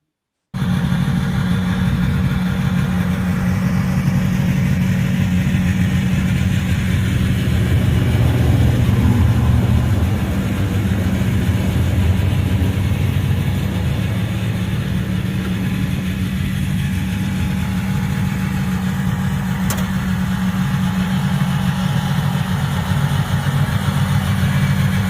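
A vintage tractor engine idles steadily and loudly for the whole stretch, a continuous low rumble with a slight swell partway through and no talking.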